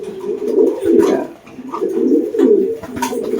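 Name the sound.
pigeons cooing while being handled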